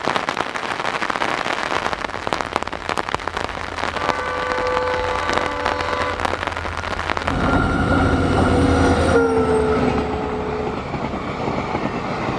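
A train rumbles and clatters past a quiet hillside station, loud and near. Sustained tonal squeals and whistles rise over the rolling noise midway through, and no one speaks.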